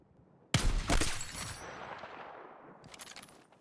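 A sudden loud burst of gunfire in the video game Battlefield 6, a sharp crack and quick follow-up shots that roll off into a long fading echo, then a faint later rattle, with no talking.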